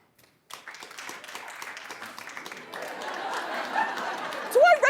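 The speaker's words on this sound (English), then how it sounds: "Clap if this is a book that you would purchase and display." Studio audience on a daytime talk show breaking into applause, a steady wash of many hands clapping that swells and grows louder toward the end, with some chatter and laughter mixed in.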